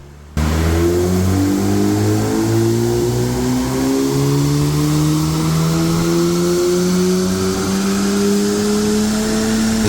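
An Audi S3 is revved hard on a dynamometer after tuning work, its engine climbing in pitch through a long, loud pull; close and sustained, alone without talk.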